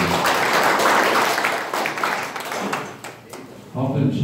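A seminar-room audience at a golf teaching association's session gives a burst of dense clapping that fades after about three seconds before voices resume.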